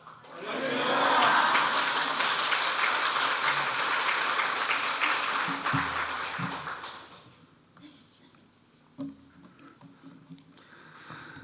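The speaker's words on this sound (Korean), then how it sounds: "여러분들 나오실 때 할렐루야 하면서 뜨거운 박수로 한번 모시도록 하겠습니다" A church congregation breaks into loud, dense clapping during an autumn revival service, sustained for several seconds before thinning and fading into quiet room noise.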